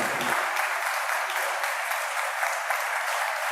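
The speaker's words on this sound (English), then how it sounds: "You deserve a round of applause." Audience applause at a lecture on everyday Americans in the Gilded Age, a steady dense wash of many hands clapping that fills the whole stretch, evenly loud with no speech over it.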